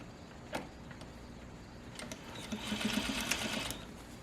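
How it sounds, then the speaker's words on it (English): Sewing machine stitching 100% cotton fabric in short bursts, faint and close, with a steadier whirring run of stitches near the end and light handling clicks. "And just sew this all the way around."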